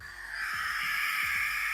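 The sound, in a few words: Australian bird call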